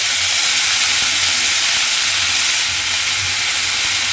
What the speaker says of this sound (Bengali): ফুলটা আমি এখানে তেলের মধ্যে দিয়ে দিলাম